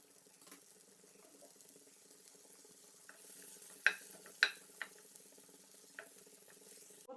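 Butter melts and sizzles in a pan on a medium flame: a faint, steady frying hiss with a few soft clicks and taps scattered through it.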